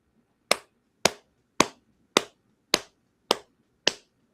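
A slow clap of seven single hand claps, evenly spaced about half a second apart, crisp and close against a quiet room background.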